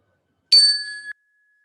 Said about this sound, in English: I'm just going to go ahead and ring this bell